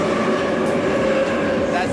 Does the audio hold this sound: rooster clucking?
no